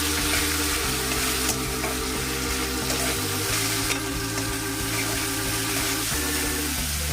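Ground cumin, coriander, Kashmiri chilli and hot chilli powders added to hot oil in a pan over a high gas flame for a dry fish chorchori, a loud steady sizzle with stirring, close and continuous.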